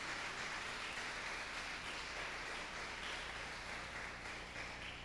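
A church congregation claps for God during a Spanish-language service: steady, dense applause fills the whole stretch at an even level, like a wash of rain-like noise with no clear breaks.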